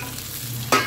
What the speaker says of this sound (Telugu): సో పచ్చి కొబ్బరి కూడా ఫ్రై అవుతుంది